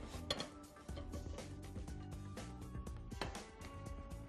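Soft clinks and clatter of dishes and utensils as pancakes are set onto a plate, a few sharper knocks against steady background noise.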